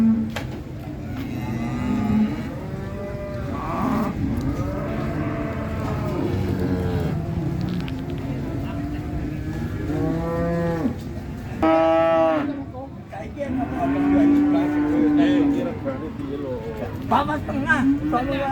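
Cattle, including Simmental, moo repeatedly at the Jetis Ponorogo cattle market in Indonesia. Several drawn-out lowing calls rise over a busy crowd murmur and nearby voices.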